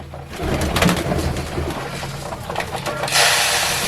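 Pigeons coo in soft, low repeated calls amid a busy flock, with rustling and a burst of hissing noise near the end.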